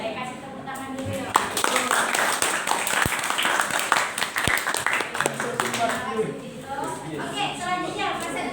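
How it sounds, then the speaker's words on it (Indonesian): Students in a classroom applaud together, a dense, steady patter of many hands clapping close by with voices talking over it throughout. "Boleh kasih tepuk tangan dulu yuk."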